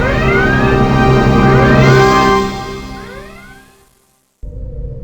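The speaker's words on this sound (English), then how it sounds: "Go to red alert." Red alert klaxon aboard a starship in a Star Trek: The Next Generation video game: loud repeating rising whoops layered over a ship hum, fading out to silence before a low hum returns.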